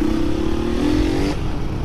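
A motorcycle engine revs up near the listener, its pitch climbing steadily for over a second before easing off into a rough idle at a street gathering, with no talk over it.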